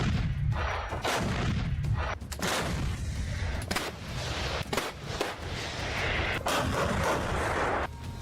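Howitzer artillery fire in the Russia-Ukraine war, a series of loud booming blasts in irregular succession over a dense rumbling background, each report sharp and heavy.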